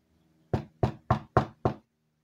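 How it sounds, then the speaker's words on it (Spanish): Five sharp knocks on a wooden door in a quick, even sequence, used as a sound effect in a spoken story, each rap crisp and close with silence before and after. "alguien golpeó la puerta."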